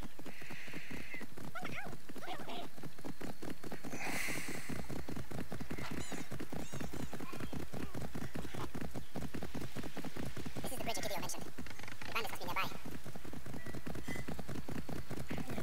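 Rapid hoofbeats of a galloping horse in the video game Assassin's Creed Origins pound in a quick, steady rhythm throughout, with crackly background noise and faint speech mixed in.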